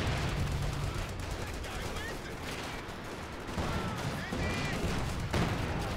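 An infantry support gun shell strikes in Company of Heroes 2 amid a dense wash of battle noise, with steady gunfire and distant explosions throughout and a sharper impact late on.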